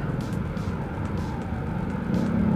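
Road traffic on Regalado, Commonwealth, a busy Saturday street: a steady, dense low rumble of engines throughout, swelling slightly toward the end, with no voices.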